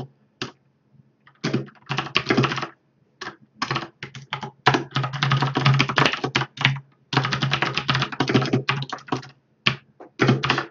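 Rapid bursts of keystrokes on a computer keyboard as DOS program code is typed by hand, loud and close, with short pauses between runs of clattering taps.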